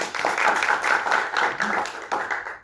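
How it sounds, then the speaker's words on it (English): An audience claps for the Gauteng Black Label champion team, a short burst of steady applause from a crowd that stops after a couple of seconds. "Can you clap for them?"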